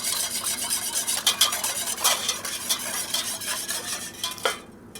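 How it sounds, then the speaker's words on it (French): Whisk stirring yeast into water in a bowl during bread making, brisk scraping and clinking strokes repeating in an irregular rhythm, close and fairly loud with no talk. "dans l'eau et je viens bien la diluer au fouet"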